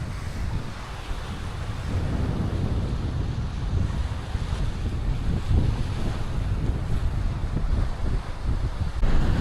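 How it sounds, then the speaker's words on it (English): Strong wind roars across a beach at Playacar, Playa del Carmen, and batters the microphone in a constant rumble. Surf rolls underneath it, and the roar holds loud and steady throughout. "the walk back is so much harder with the wind against me."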